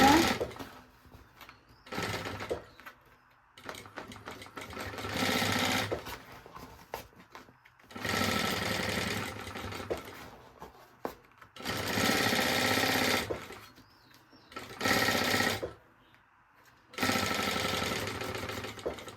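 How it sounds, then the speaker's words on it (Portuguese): A sewing machine stitches fabric lining for a baby organizer, running in several loud, fast bursts separated by short pauses, including a backstitch at the start. "E fazer um pesponto aqui pra segurar, pra não ter o risco desse forro vazar e atrapalhar"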